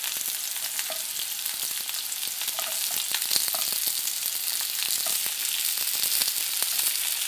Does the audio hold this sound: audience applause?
no